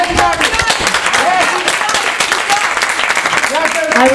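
An audience at a League of Women Voters debate claps in dense, sustained applause, mixed with crowd noise and a voice talking over it.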